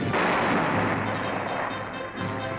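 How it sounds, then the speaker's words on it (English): A 75-millimeter cannon fires from a B-25 bomber in archival newsreel footage, a loud sustained burst of heavy, booming gunfire that fills the short stretch. "And 75-millimeter cannon, firing from the sky, can and have sunk a destroyer."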